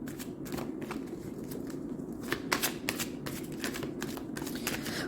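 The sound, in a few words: oracle cards being shuffled and pulled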